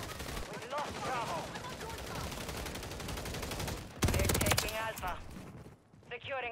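Rapid automatic gunfire from Modern Warfare 3 rattles continuously in dense bursts, with a heavier burst of shots near the end, close and loud, while voices talk over the fighting.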